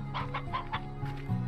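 A hen in the video game Slime Rancher clucks in a quick series of four or five short, close clucks followed by a brief squawk, with a faint background hum.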